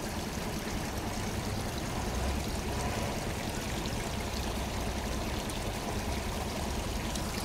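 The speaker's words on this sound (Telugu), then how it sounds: "నీళ్ళు కూడా ఏమో పాస్ట్లో వస్తున్నాయిరా" Fast mountain water rushes steadily and close by, a dense continuous wash of flowing water that goes on without pause and no voices.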